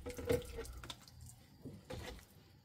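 Water gently poured onto soil in a living-soil bed where young plants are being transplanted, uneven splashing bursts close by with quieter gaps between pours.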